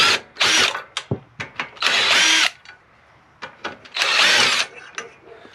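A power tool, likely an impact driver, buzzes off bolts on a Baja Warrior minibike in two long loud bursts, with short clicks and trigger blips between them, close by and with no talking.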